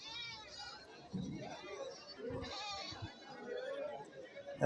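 Goats and young kids stand at a goat market in Kerala. Bleats come from close by, and people talk and chatter around them.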